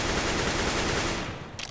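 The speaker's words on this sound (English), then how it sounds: "you want to take a full shot on the wall to see the recoil" Full-auto rifle fire in the game CSGO sprays a wall as a dense, loud, continuous rapid burst that tapers off near the end, with no talking over it.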